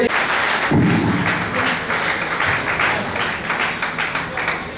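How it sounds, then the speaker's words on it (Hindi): Audience at an AWPL event in Kuchaman claps steadily through the whole stretch, a dense, loud wash of applause with a low thud near the start and some voices mixed in. "सर आपकी तालियां बजती रहनी चाहिए"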